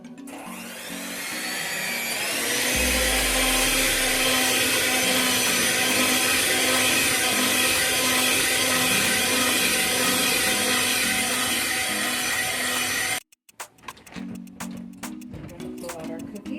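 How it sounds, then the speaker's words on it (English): An electric blender whirs loudly and steadily for about thirteen seconds, mixing icing with a teaspoon of vanilla, then cuts off abruptly, leaving brief quieter sounds and a voice at the end. "And we're going to blend that up."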